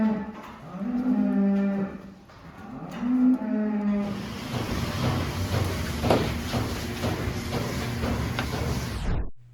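Dairy cows moo in a milking parlor, two long, close lowing calls in a row, followed by a broad mechanical hiss and clatter of parlor equipment that runs steadily before cutting off.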